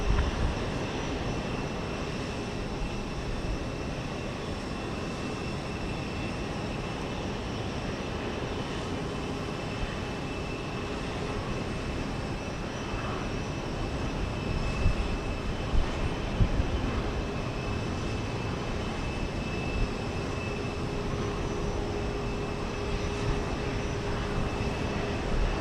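A jet airliner takes off from runway 15 right at Houston Intercontinental, giving a steady, broad engine roar that stays fairly constant at a middle distance for the whole stretch.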